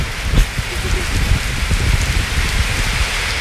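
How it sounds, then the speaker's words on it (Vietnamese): Heavy rain pours down steadily and blows in under the cover of a moored barge, a dense hiss of drops hitting surfaces nearby, loud and continuous. "bây giờ mưa nó tạt vô trong này luôn rồi. Wow, ở ngoài mưa lớn quá"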